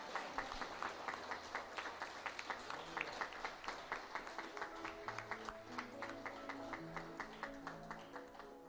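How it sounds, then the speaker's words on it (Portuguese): Steady applause from a church congregation fills the space, with a rapid patter of claps over soft background music and low murmuring. "Uma salva de palmas para o Senhor Jesus Cristo."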